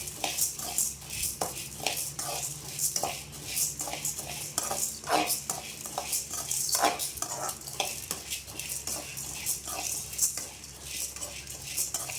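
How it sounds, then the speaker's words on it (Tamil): Lentils dry-roasting in a pan without oil, stirred continuously with a metal spoon, giving a dense, close rattle and scrape of grains and utensil against the pan in quick irregular strokes, with no voices. "எண்ணெய் விடாமல் வறுக்கணும்."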